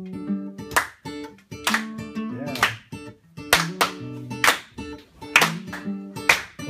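An audience at a festival concert claps along in time to an upbeat song, sharp rhythmic claps landing on the beat over sung vocals and instruments.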